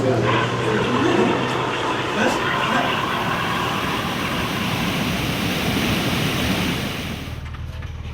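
Meltwater discharge from a glacier rushing loudly and steadily as a broad, continuous roar close by, easing off somewhat near the end.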